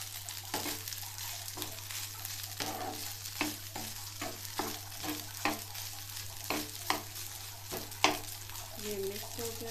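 Rice is stirred and fried in a pan for sweet rice pulao: irregular scraping spoon strokes over a soft sizzle, with a steady low hum running underneath.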